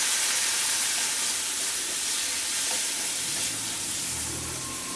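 A little water poured onto a hot spice mixture in a pan for an egg and spring onion curry sets off a loud, steady, close hissing sizzle that holds throughout without pause.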